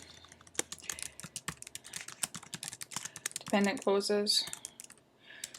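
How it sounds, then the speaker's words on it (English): Fingers type on a computer keyboard in quick, uneven bursts of close, sharp clicks, pausing briefly while someone speaks over the keystrokes before the typing resumes. "I'm going to type what I'm looking for."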